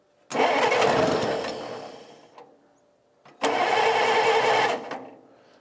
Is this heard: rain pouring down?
no